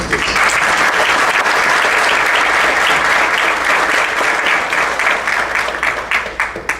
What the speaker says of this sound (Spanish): Damos un fuerte aplauso y la bienvenida a la doctora Lourdes Morales Canales.